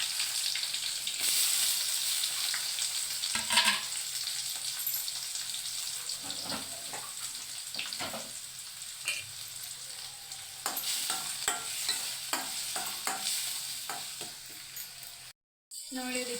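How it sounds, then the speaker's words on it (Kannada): Onions frying in hot oil in a pan, with a medium tomato going in, a continuous sizzle punctuated by repeated sharp scrapes and clinks of a spoon stirring, and a brief drop to silence near the end. "ಎಣ್ಣೆ ಕಾದಿದೆ ನೋಡಿ, ಈರುಳ್ಳಿ ಹಾಕ್ತಾಯಿದ್ದೀನಿ."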